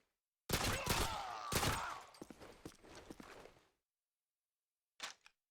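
Gunfire from the Call of Duty: Modern Warfare 2 video game on PC, loud rapid bursts of shots over about three seconds that trail off, then one more short burst after a pause.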